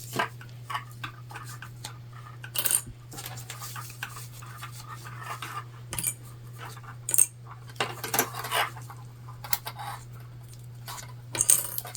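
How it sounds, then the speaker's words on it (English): Plastic sewing clips being unclipped from fabric for a zipper on a sling bag, a series of small sharp clicks and soft rubbing scattered irregularly over a quiet background with a low steady hum. "So we're unclipping a little bit."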